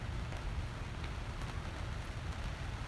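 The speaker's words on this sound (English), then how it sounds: "here comes the rain. It's starting to rain again." Steady rain falling outdoors during a yoga session, a dense continuous hiss of drops on surfaces, even and unbroken, with no voices.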